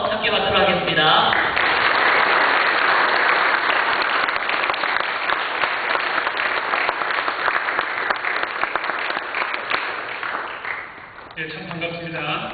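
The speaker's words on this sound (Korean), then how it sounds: "우리 선교사님 나오실 때 환영의 박수하면서 함께 받도록 하겠습니다" A church congregation in Korea claps to welcome a missionary coming forward: steady, sustained applause for about ten seconds, with someone speaking briefly before and after.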